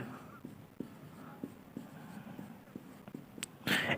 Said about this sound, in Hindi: मैं एक और क्वेश्चन लिखता हूं मोड से रिलेटेड।